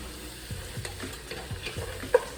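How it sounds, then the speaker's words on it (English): Green peas being stirred into a pot of split pea soup, with a quiet simmering sizzle under regular scraping strokes about every half second and a single sharper clink near the end, close and with no talking. "I'm gonna stir till uniform. Stir very well till uniform."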